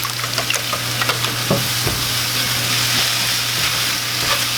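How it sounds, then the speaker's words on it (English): Steady sizzling in a pan as sun-dried tomatoes and feta are stirred into spinach, a continuous frying hiss with light scraping and stirring taps and a low steady hum underneath. "In with the sun-dried tomatoes. In with the feta. Give that a little mix."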